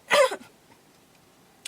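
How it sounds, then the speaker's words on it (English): A single sharp cough bursts out close and fairly loud at the start, with a short trailing rasp, followed by near silence and one faint tick near the end. "Did nothing but cough in it"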